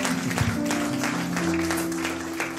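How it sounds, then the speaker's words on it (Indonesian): A church congregation claps together in a dense, steady burst of applause, blended with sustained tones from accompanying music throughout. "Kita beri tepuk tangan yang mulia bagi Tuhan saudara"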